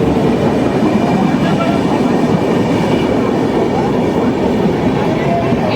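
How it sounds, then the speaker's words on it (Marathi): A train rumbles loudly and steadily close by, with wheels clattering on the rails throughout and no clear speech. "चला आमची ट्रेन आली"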